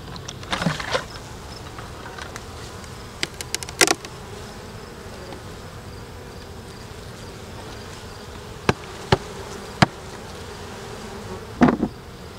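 Honeybees buzz in a steady, moderate drone around a hive swarm, with a few sharp brief knocks and clicks scattered over the hum.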